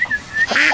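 A few short, nasal honking quacks from ducks close by, in quick succession with brief gaps.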